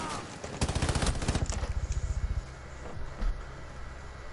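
Rapid automatic gunfire in the tactical shooter Rainbow Six Siege, a steady burst of evenly spaced shots lasting about two seconds, followed by a lone heavier thud and quieter game ambience.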